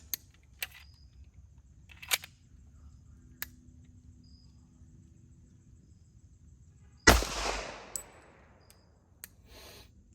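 A single sharp pistol shot, drawn and fired from a holster during a timed shooting match, cracks loudly at close range and rings off, with faint clicks and ticks before and after in an otherwise quiet setting.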